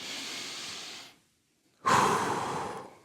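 A person breathes through the nose, close and clear: one long airy exhale, a brief pause, then a strong inhale that trails off.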